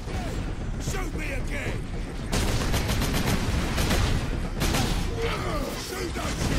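Rapid bursts of automatic gunfire and clattering impacts crackle through a Warhammer 40k Space Marine firefight, dense and continuous, with a voice talking over the shooting.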